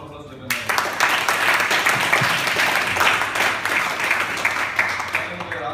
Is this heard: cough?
no